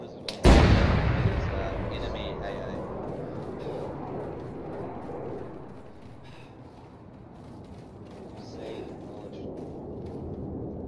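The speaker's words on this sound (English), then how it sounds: "I think one of those uh, tanks got fired. Or one of the light armored vehicles." A tank or light armored vehicle fires in the Arma 3 video game: one loud, sharp blast whose rumbling boom trails off over several seconds, with muffled distant activity after it.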